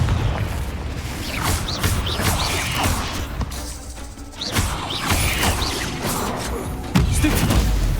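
A Confringo explosion spell in the video game Hogwarts Legacy lands as a series of loud booming blasts with crashing, mechanical clatter. The bursts are spread across several seconds over continuous game noise.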